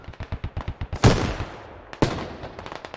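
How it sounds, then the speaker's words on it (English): A Warrior armored vehicle firing in Squad: a steady string of rapid cannon shots followed by two heavy booming blasts, loud and close, with no voices. "Oh, that's a warrior actually shooting over."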